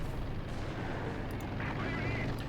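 Grenade blast in Company of Heroes 2, heard as a low rumbling boom within a continuous din of battlefield gunfire and artillery, with a caster talking over the action.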